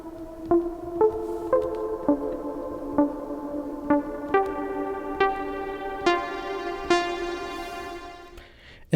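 Synth plucks from a U-he Podolski patch fed through Valhalla Supermassive's C-beams reverb play a steady rhythmic sequence. Each note is clear, and the tone grows brighter and richer as the filter cutoff opens. No voices.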